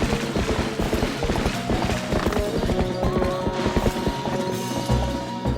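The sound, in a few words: horse hooves clip-clopping in the video game Zelda: Twilight Princess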